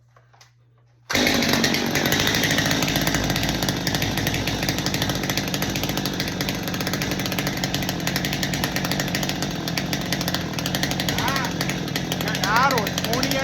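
A ported Stihl chainsaw fires up after a brief quiet moment and then holds a loud, steady high-speed engine whine close by for the rest of the stretch, with no talking over it.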